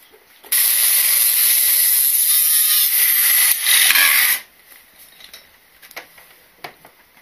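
A power grinder cuts out a stuck bolt underneath a campervan, a loud high harsh whine that runs for about four seconds, then stops and leaves scattered small clicks and knocks.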